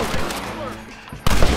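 A burst of gunfire from a Red Dead Redemption shootout on Xbox One X breaks out after a quieter stretch, with loud, close shots clustering near the end.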